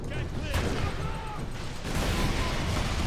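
Gunfire and a grenade explosion in the video game Warhammer 40000 Space Marine, loud sharp bursts among battle noise with a voice talking over it.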